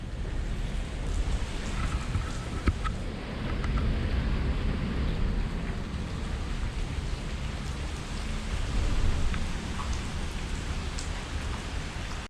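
Steady, heavy rain pours near a riverside bridge during a fishing trip, a dense continuous hiss with no voices.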